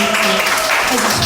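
Welcoming applause from a church congregation, a brief burst of dense clapping with a low hum of voices mixed in.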